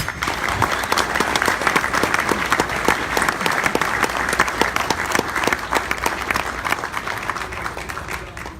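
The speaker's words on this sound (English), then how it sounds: "a round of applause for our Top Job winners" An audience at a painting contractors' expo awards ceremony claps for the winners, a loud, dense round of applause with many distinct hand claps that holds steady and eases off slightly near the end.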